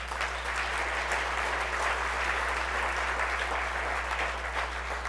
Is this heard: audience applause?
yes